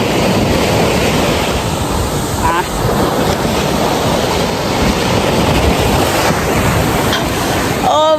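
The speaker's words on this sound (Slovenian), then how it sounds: "Zdaj sva prišla na obalo, mislim na plažo." Sea waves wash continuously onto a beach in Tuscany, loud and close, with steady wind buffeting the microphone throughout.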